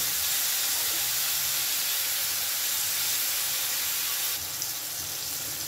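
Tomato, onion and garlic fry in a pan, giving a continuous, fairly loud sizzling hiss that holds steady throughout and shifts slightly near the end.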